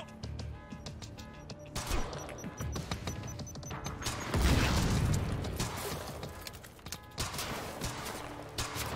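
A frag grenade goes off in the Quantum Break video game with a heavy, rumbling blast midway through, surrounded by clattering gunfire and crashing impacts.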